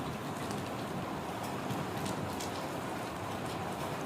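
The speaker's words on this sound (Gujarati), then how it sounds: "કન્ટિન્યુ વરસાદ વધતો જાય છે અને વીજળી પણ સંભળાય છે" Heavy rain pours steadily and densely, a continuous close hiss of drops on surfaces with no voices, during a thunderstorm.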